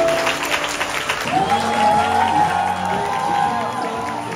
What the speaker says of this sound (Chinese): 大家给新郎一个掌声好吗？